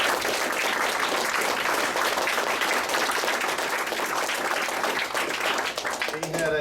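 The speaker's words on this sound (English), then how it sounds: "he deserves a round of applause too" An audience claps at a Bleckley Board of Education meeting, a sustained round of applause that stays full for most of its length before thinning out near the end.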